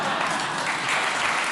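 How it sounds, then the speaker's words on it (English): Studio audience applauding in a steady, dense burst of clapping, fairly close and even throughout with no voices over it. "Don't applaud her."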